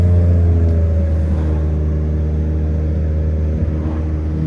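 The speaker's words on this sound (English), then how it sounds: "Beautiful sounds out of this stock motor, stock turbo X3M." Tuned, catless BMW X3M with a stock S58 turbo engine pulling under acceleration, a loud, steady low droning rumble heard from inside the car with no talk.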